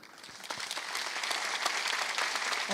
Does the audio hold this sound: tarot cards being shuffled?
no